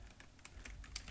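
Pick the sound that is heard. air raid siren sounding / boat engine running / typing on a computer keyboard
typing on a computer keyboard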